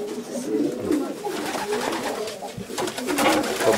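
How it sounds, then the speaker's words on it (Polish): Several racing pigeons coo in soft, throaty, overlapping calls, close by inside a loft, with faint rustling and shuffling mixed in. "To sind auch sehr schöne Tauben."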